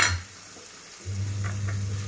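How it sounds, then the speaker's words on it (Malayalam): Mustard seeds, curry leaves, ginger and garlic drop into hot coconut oil in a pan, bursting into a sudden loud, steady close sizzle after a brief quieter moment. "വെളിച്ചെണ്ണ ഒഴിച്ചു, കടുകിട്ടു, കറിവേപ്പില, ഇഞ്ചി, വെളുത്തുള്ളി"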